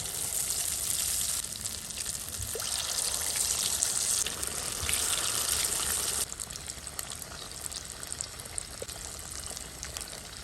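Paneer kebabs in a chilli-powder coating frying in hot oil, a steady broadband sizzle and bubbling that stays loud at first and eases slightly partway through, with no talk.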